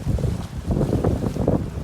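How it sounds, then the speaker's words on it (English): Waves slosh and splash against a ladder at the beach near Kingston, irregular low watery surges mixed with heavy wind buffeting the microphone, close and fairly loud. "these waves are doing as they always do, bouncing right up"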